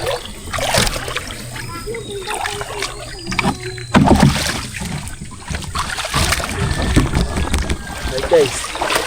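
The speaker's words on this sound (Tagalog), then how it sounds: "Lalabas ko tong bangka eh." A small boat being pushed out onto the water, with splashes and trickling water, wind and knocking of the hull, while people talk nearby in Filipino.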